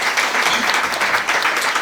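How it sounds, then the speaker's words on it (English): Audience applauding open-water swimmers preparing to cross the English Channel, a short dense patter of clapping from a room of people, steady and moderately loud. "give them a round of applause"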